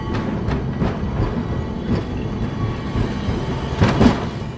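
Rumbling roll of the Angels Flight funicular car climbing the hill, with rhythmic clicks and clacks of wheels on track, a few sharper knocks near the end, no talking.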